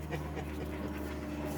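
A golden retriever puppy pants steadily and close up, a continuous rapid breathy rhythm with a low background hum and no speech.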